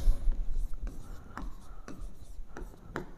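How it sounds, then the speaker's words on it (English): Pen or marker writing an equation on a surface, close and quiet, with short scratchy strokes and taps in an irregular rhythm. "We write cos omega t"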